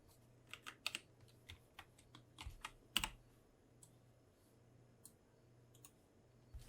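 Keys on a computer keyboard are struck in scattered clicks and short bursts during 3D modeling work, one clearly louder tap standing out midway, close and quiet with no talking.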